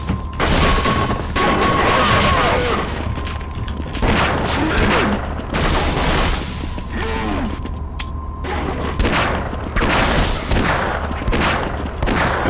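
Rapid bursts of gunfire from a Unity-built demake of Half-Life, loud and close, with sharp volleys and mechanical clatter repeating across the stretch alongside game ambience.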